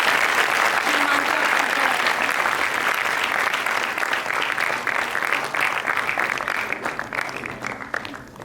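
Loud, sustained applause from an audience at a school celebration in Firozpur, a thick roar of clapping that gradually thins toward the end.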